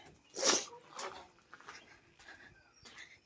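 A neighbour's dog barks a few times from the house next door, some distance away, three short sharp bursts spread out over a few quiet seconds.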